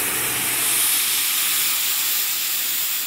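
Tomato purée hitting hot frying rice in a pan makes a loud, steady sizzle, a bright continuous hiss that swells slightly and holds without pause.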